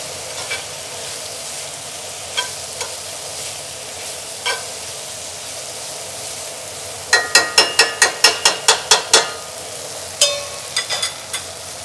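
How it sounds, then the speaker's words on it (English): Tomato paste and bouillon toasting in hot oil in a pan for a braised chuck roast onion soup, heard as a soft steady sizzle broken by a quick run of sharp scraping stirs, with no talking. "I'm going to let the tomato paste and the bouillon also toast up in that hot oil"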